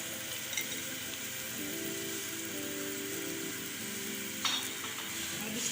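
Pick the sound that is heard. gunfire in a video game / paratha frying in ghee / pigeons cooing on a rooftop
paratha frying in ghee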